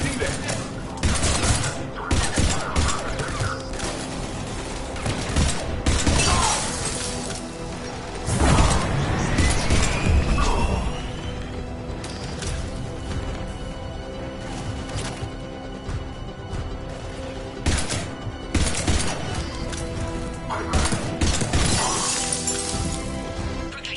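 Bursts of gunfire and shattering impacts at a checkpoint in Mass Effect 3, with dense overlapping shots and crashes. Voices talk over the firefight at times.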